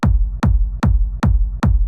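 Hard techno kick drum with punch and character layers grouped together, five heavy booming hits at an even four-on-the-floor pace, loud and dry with no voices.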